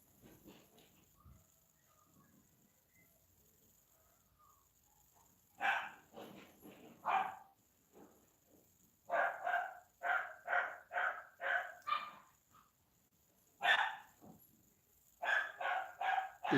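A dog barks in bursts of rapid, loud barks spaced through the scene, with quiet gaps between the runs.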